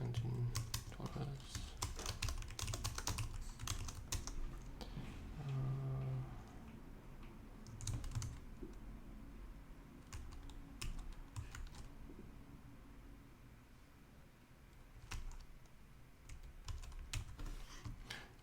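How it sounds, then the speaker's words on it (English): Typing on a computer keyboard at a slow, uneven pace, keys clicking close by with steady background noise throughout. "I'm typing very slow because I'm spelling that out in my head"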